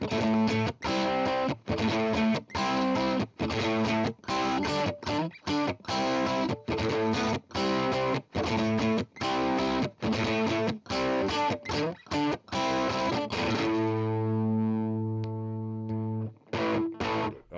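A driven electric guitar with single-coil pickups, played through an inexpensive $15 Playwell drive pedal, plays choppy chords in a steady rhythm with crunchy overdrive, ending on a long sustained ringing chord.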